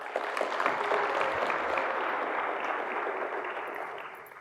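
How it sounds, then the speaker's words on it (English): A small audience applauds during a skydiving demonstration, a soft, steady smatter of clapping that swells slightly and then tapers toward the end. "Everybody give Bladen a round of applause."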